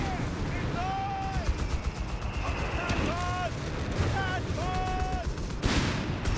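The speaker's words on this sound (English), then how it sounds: "they're being bombarded by the power of the Vesper" Artillery and gunfire from Vesper bombardment in Company of Heroes 3 rumble continuously through a busy wartime battle, with repeated booms, a sharp blast near the end, and a caster talking over the din.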